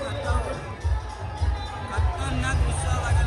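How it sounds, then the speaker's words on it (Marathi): A large, excited crowd of pilgrims fills the air at the Aai Raibadevi yatra with a dense, steady babble of many voices and shouts, loud and close throughout. "पब्लिकचा जल्लोष बघताय तुम्ही. एक नंबर जल्लोष आहे."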